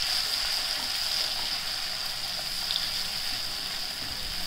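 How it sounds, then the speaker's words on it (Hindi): Almond paste for halwa is fried and stirred in a pan, producing a steady, close, bright sizzle that runs unbroken throughout, with faint stirring movement beneath and no voices. "इस तरह से इसको चलाते हुए हमें इसको गोल्डन ब्राउन होने तक इसको हमें भूनना है।"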